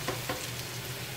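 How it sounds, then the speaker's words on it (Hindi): Chicken pieces stir-frying in a pan for Kung Pao chicken, a steady close sizzle with a couple of brief stirring scrapes near the start, no voices. "चिकन को हमने 3 मिनट तक फ्राई कर लिया है।"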